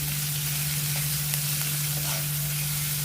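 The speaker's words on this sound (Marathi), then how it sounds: "ढोबळी मिरची आपल्याला चांगली परतून घ्यायची आहे. यानंतर 1 वाटी मटार टाकते मी." Bell pepper and peas sauté in a pan with a loud, steady sizzle and occasional stirring scrapes, set over a constant low hum.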